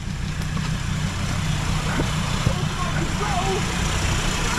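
A Suzuki Jimny converted to a PD diesel engine crawls in low range, giving a steady, unbroken low diesel drone close by with faint voices in the background.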